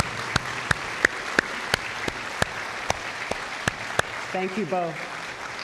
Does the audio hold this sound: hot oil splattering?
no